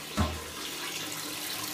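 A toilet cistern in a public toilet in Bournemouth refills after a flush, opening with a brief gurgling splash and then settling into a steady trickle and hiss of incoming water.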